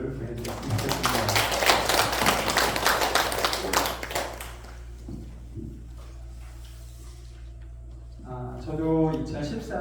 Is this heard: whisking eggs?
no